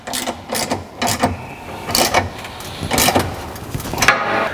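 Factory nuts on a Jeep JL Hemi 392 skid plate being tightened with a 13mm socket, a series of short repeated clicking and rattling bursts in quick succession, close and fairly loud.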